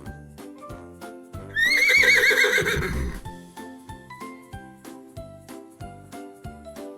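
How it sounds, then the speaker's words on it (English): A horse whinnies loudly for about a second and a half over steady clip-clop hoofbeats and faint jingling tack, the hooves continuing rhythmically after the neigh fades. "The horse says nee."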